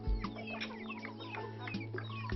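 Kadaknath, Vanraj and Krishna breed chickens kept by village women in Madhya Pradesh, clucking softly in a close, quiet run with a steady low hum beneath.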